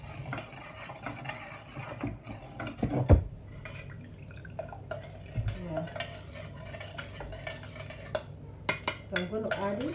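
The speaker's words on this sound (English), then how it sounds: "stir it until it's dissolved" A spoon stirs a moi moi mixture in a bowl, giving close wet scraping and clinks against the sides in irregular strokes, with a few louder knocks and soft liquid sounds.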